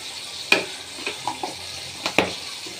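Cabbage frying in oil with chili, onion and garlic, a soft steady sizzle broken by a few sharp stirring scrapes and clinks of a spatula against the pan, close and fairly quiet.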